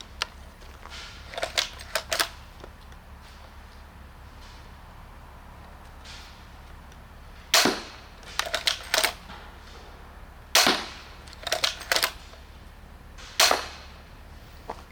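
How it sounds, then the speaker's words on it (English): Interceptor toy blaster firing, with sharp snapping shots and quick mechanical clicks from priming and handling, arriving in separate bursts across the clip, close and loud against a quiet room. "We have 6 shots in the mag. We'll shoot 3 and then take it out."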